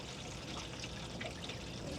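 Water pours steadily into an RV holding tank, a continuous hissing, splashing flow heard close up and fairly loud without pause.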